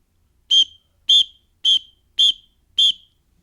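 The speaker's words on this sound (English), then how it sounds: "We're going to simulate it with a whistle blow." Five short, shrill whistle blasts sound at an even pace, each about a fifth of a second long, clear and loud against a quiet room during an active-shooter drill in a building.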